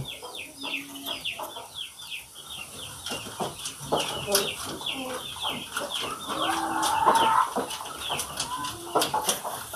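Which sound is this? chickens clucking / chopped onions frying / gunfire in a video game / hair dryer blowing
chickens clucking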